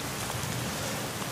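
Heavy rain pours steadily in a dense, continuous hiss at a cemetery, loud and close throughout with no pauses.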